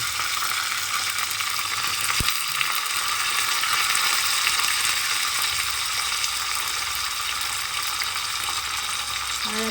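Dried red chilies, black mustard seeds and curry leaves fry in hot oil for a semolina idli tempering, giving a steady, close, broadband sizzle with a single sharp click partway through and no voices.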